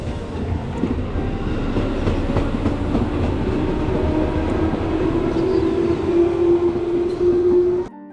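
A Japanese metro train rides along with continuous rumbling and clickety-clack, plus a rising tonal whine toward the end before the sound cuts off abruptly.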